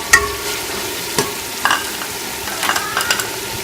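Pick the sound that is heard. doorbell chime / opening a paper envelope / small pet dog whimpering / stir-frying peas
stir-frying peas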